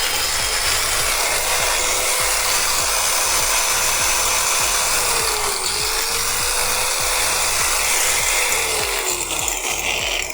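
A repaired Dongcheng angle grinder runs at a steady, loud, high-pitched whine throughout, with no talk.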